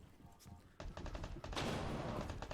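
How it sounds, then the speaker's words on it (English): Flashbang grenades going off in Rainbow Six Siege, a rapid burst of loud bangs and crackling blasts that builds and grows denser toward the end, with a voice faintly underneath. "The flashbangs absolutely everywhere."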